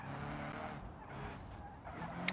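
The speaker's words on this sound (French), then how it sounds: "Une petite drift comme ça." Car drifting with skidding tires in the BeamNG driving game, a steady engine roar and tire scrub held at even loudness for the whole stretch, with no voices over it.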